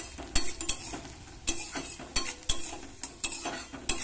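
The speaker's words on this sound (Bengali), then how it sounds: "দেখো সবজিটা হালকা হালকা ভাজা হয়ে এসছে" Mixed vegetables fry in a pan, with a soft continuous sizzle broken by repeated sharp scrapes and clacks of a spatula stirring against the metal.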